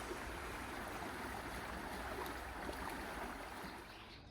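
A small creek flowing beneath a path near the village of Lijó in Portugal, a soft continuous rushing and babbling of water, close but faint, steady throughout with no voices.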